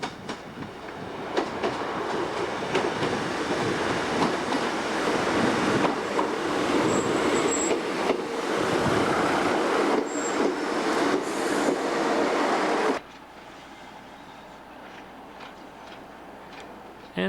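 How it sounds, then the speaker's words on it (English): A British Rail DMU diesel train travelling in 1991, heard from on board as a rumbling, rattling ride with wheel noise and faint squeals, ending in an abrupt drop to quieter interior hum; some talk faintly underneath. "We stopped in the middle of basically nowhere to change to another DMU set to head back to the town of Shrewsbury."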